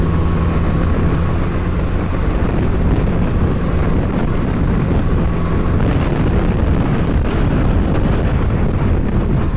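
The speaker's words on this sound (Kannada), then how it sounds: "ಏನ್ ಗುರು ಗಾಳಿ ಬೀಸ್ತಿರೋದು?" Strong wind on the open road to Dhanushkodi buffets the microphone in a loud, continuous roar with low rumbling gusts and no speech.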